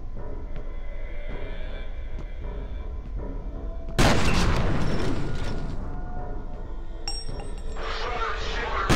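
A grenade blast in the shooter game F.E.A.R. erupts suddenly partway through as one loud, close boom, followed by a crackling, ringing tail and a second sharper burst of clattering noise, over a low rumbling backdrop.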